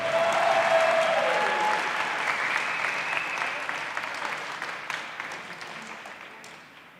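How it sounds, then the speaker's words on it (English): Sustained applause from a crowd at an indoor college pool honoring swimming and diving seniors, loud at first and slowly fading over several seconds. "Let's have one more round of applause for your 2025-26 swimming and diving seniors."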